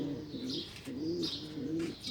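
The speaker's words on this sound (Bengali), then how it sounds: "আমার কবুতরের ডাকগুলো শোনা যেতেছে নিশ্চয়ই" Pigeons cooing on a rooftop at dawn, three low rolling coos in a steady rhythm, close and clear with faint chirps in the background and no talk.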